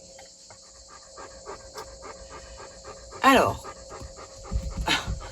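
A dog pants in rapid, steady breaths close by, with a few louder sniffs or snorts toward the end, while a person speaks in the background.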